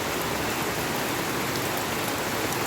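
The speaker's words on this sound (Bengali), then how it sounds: "খুব জোরে হচ্ছে বৃষ্টিটা।" Heavy rain pouring down in a dense, even hiss that holds steady and close for the whole stretch, with no voices.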